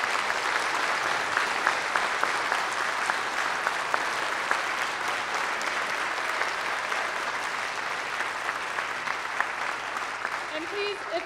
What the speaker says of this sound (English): So everybody please give Talia a round of applause